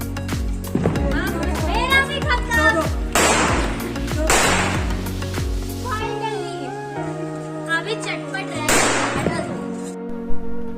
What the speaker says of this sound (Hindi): ये देखो यहाँ दुनिया के बम फूट गए, अब हम बम फूट रहे हैं रात को 12 बजे।